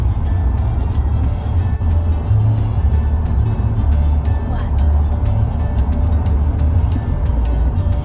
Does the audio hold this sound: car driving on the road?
yes